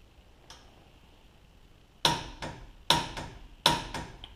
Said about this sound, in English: Kind of want to let the torque wrench set the final torque on this.